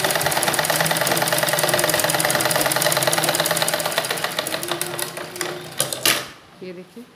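A sewing machine runs steadily while stitching a suit, its rapid mechanical needle rhythm loud and continuous for several seconds before slowing and stopping in a few uneven bursts near the end.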